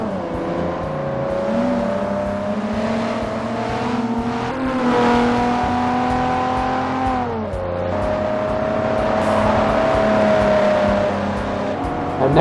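A DeLorean races around Infineon Raceway in the Forza video game, its engine droning loud and close with steady pitch rising and dipping through gear changes, braking into a hairpin and accelerating back out.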